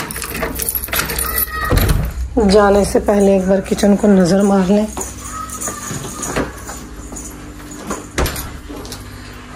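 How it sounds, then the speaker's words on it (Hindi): Keys jangle and a house door rattles shut as it is locked, with clinks and knocks scattered through the clip under steady talk and a brief stretch of tonal, sung-like voice. "हाय, दरवाजा कितना मुश्किल है लगाना।"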